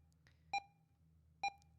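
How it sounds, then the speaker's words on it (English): Heart monitor in a hospital room from a video game, two soft electronic beeps about a second apart over a low hum, faint. "A nearby monitor beeped faintly with a feeble heartbeat."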